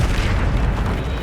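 A Bombarda spell explosion in Hogwarts Legacy lands as a deep, loud booming rumble that fills the whole moment, heavy in the low end without any clear separate hits.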